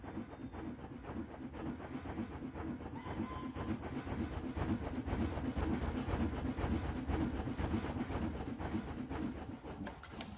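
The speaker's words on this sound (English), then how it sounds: "People love this train." A theme-park train in the video game Planet Coaster runs steadily with a continuous rumble and rhythmic clickety-clack of wheels on rails, loud and unbroken throughout, with no talking.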